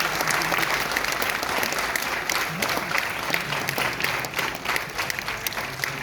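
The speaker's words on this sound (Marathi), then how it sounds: "टाळ्या वाजत राहू द्या." Sustained applause from a crowd at a birthday celebration gathering, dense steady clapping filling the hall for several seconds, with a hint of voices mixed in.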